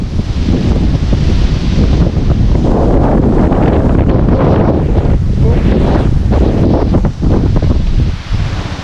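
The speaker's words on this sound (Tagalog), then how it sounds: "lakas ng hangin. Biglang lumamig." Strong wind buffets the microphone in a loud, constant roar, gusting steadily throughout with a deep rumble.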